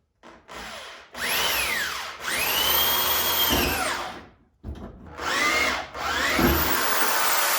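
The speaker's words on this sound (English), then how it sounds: "This is a really crappy drill that I bought at Walmart" A cheap Walmart power drill bores into a Mustang's trunk lid, a loud whining motor that rises and falls in pitch through several bursts with brief pauses in between.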